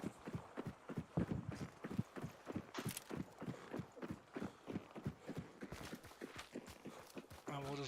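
In a video game set in a bayou, horse hooves clip-clop in a steady, rapid rhythm throughout, with a horse acting as a noise trap, while someone talks over the sound.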